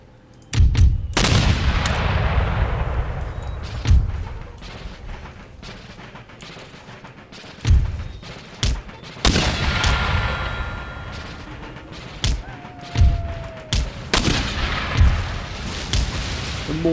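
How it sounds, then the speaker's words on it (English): Mortar and artillery fire in Empire: Total War, repeated heavy booms with long rumbling tails and scattered musket crackle, loud and irregular across the battle, no talking. "They've got mortars, which are the absolute bane, look at that."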